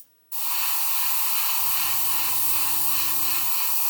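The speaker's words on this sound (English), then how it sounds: "You can see it's spraying lovely." VMS No Peel primer sprayed from an airbrush onto card, a loud continuous airy hiss starting abruptly after a brief silence, with a low compressor hum joining partway through.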